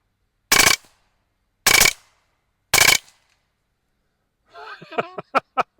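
Three sharp, loud shots from an LCS SK-19 PCP air rifle with a tensioned carbon fiber shroud over an FX SmoothTwist barrel, evenly spaced about a second apart, followed by a few brief clatters and clicks.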